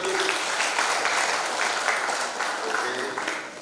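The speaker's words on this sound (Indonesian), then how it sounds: "berikan tepuk tangan bagi mereka" Applause from wedding guests celebrating a newly married couple, a dense continuous clapping filling the room with faint voices underneath, steady throughout and easing slightly at the end.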